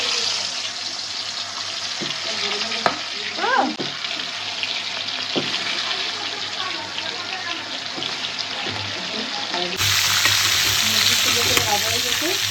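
Chicken pieces fry in oil in a pan for a chicken roast, a close, continuous sizzle with occasional stirring clatter, and a voice speaks briefly over it.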